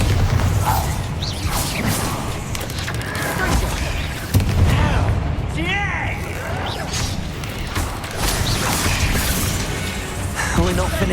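Bombarda explosion spells in the video game Hogwarts Legacy, with repeated heavy booms, whooshes and crashing debris over rumbling mechanical game noise, joined by talk.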